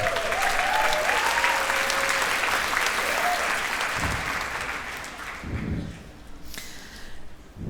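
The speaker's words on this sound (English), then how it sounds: "So give her a big round of applause." Audience applause after a talk, a dense, sustained wash of clapping from a crowd that stays steady, then thins and fades out toward the end.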